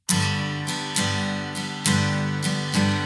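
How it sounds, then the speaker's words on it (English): An acoustic guitar strums chords in an even, steady eighth-note rhythm, close and clear, with no voices. "If I just play straight eighth notes, it sounds like this."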